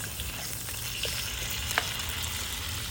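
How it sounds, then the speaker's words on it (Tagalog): Calamari frying in hot cooking oil, a steady broadband sizzle with faint crackles and small pops, constant and close throughout with no voices. "ilagay natin yung calamaris. Lutuin natin saglit ang calamaris guys."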